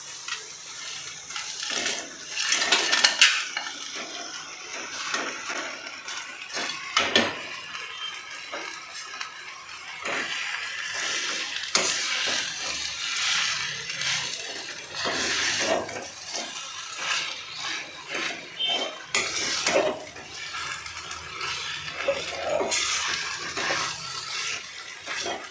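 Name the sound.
stirring chilli parotta in a pan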